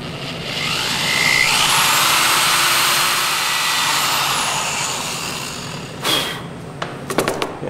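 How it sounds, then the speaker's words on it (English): Cordless drill boring pilot holes for hinge screws, a loud continuous whirring motor that ramps up and holds for several seconds, then a few short clicks and bursts as it stops. "We'll make sure that the drill goes in the exact center of each of those."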